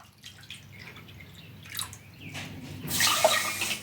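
Water is poured into a pan of sugar in an Indian kitchen to make a syrup. Soft dripping and splashing build into a louder, steady splashing pour near the end, with no voices.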